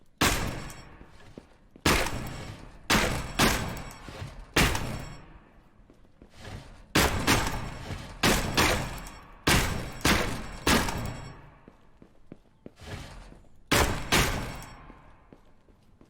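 Gunfire in Gunsmith Simulator, with loud, close shots in quick bursts separated by short pauses and a magazine reload, the bursts echoing sharply and then dying away.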